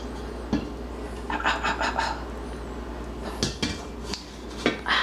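Cooked spaghetti tossed with sauce in a pot brings scattered clanks and scrapes of a metal utensil against the pot, with a few sharper knocks between quieter stirring.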